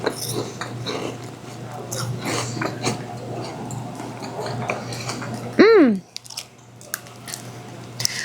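Close, crisp crunching of a light, airy Japanese corn puff snack being chewed, a dense run of bites with a brief vocal squeal near the end before the chewing quiets.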